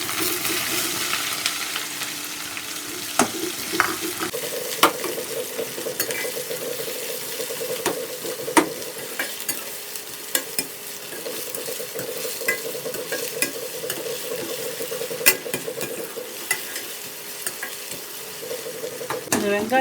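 Onions fry in hot oil with crackling mustard seeds and curry leaves for mint mutton chukka, a continuous close sizzle punctuated by sharp spoon clinks and scrapes against the pan.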